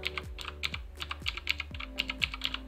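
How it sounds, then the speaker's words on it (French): Quick, crisp keystrokes on a mechanical keyboard with blue switches, a close series of sharp clicky taps in an uneven typing rhythm, with no voices. "Donc c'est un clavier mécanique hein,"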